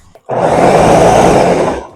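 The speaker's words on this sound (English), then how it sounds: "now we are going to go ahead and blend this" Countertop blender pureeing a vegan lobster mushroom bisque of sautéed mushrooms, starting abruptly after a brief click and running as a loud, steady whirring roar to the end, alone without talk.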